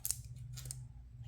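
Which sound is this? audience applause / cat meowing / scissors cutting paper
scissors cutting paper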